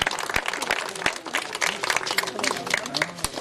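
An audience claps after a Hindi stage play, a dense, continuous patter of many hands that holds steady throughout while a voice speaks over it.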